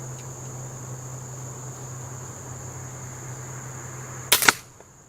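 A Benjamin Trail Nitro Piston air pistol fires once near the end. The shot is a sharp, loud crack with a short rattle after it, set against a steady background hum and a high electronic whine.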